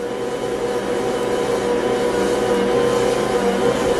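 An Ankarsrum stand mixer runs steadily with a constant motor hum and whirring drone. The sound is close, loud and unbroken, with no talk over it.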